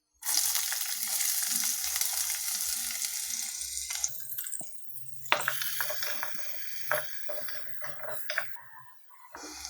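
Steady frying sizzle of chopped onions in hot oil with cinnamon, cloves and cardamom, with a few clinks and scrapes of a utensil stirring partway through.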